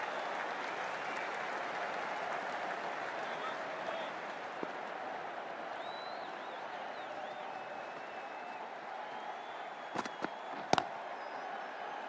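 Large cricket crowd at an India versus Pakistan match, a steady distant roar of applause and cheering filling the whole stretch, with a couple of sharp pops near the end.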